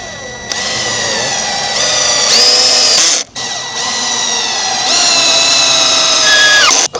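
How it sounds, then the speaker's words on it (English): A power drill drives screws into 2x4 lumber to fix a garden frame in place, its motor whining loud and close in long revving bursts with a brief stop partway through. "We have 2x4s that we're sticking in the corners and screwing into place."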